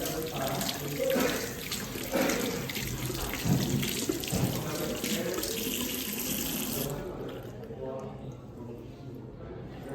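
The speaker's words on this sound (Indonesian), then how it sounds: "Lalu dibilas dengan air mengalir." Steady running tap water splashes into a sink for several seconds as hands are rinsed, then the flow thins out toward the end.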